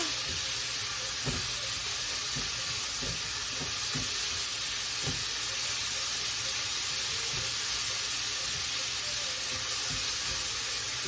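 Bacon sears in melted butter in a pan on the stove. A soft, steady sizzle hisses throughout, broken by a few light clicks and taps from stirring or turning.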